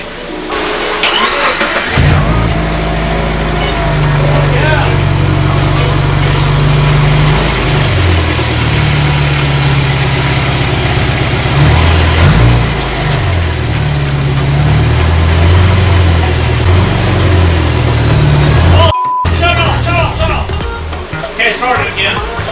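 A Subaru with new head gaskets, jump-started, cranks briefly and catches, then runs loud and close with several revs rising and falling, before a brief cutout and restart.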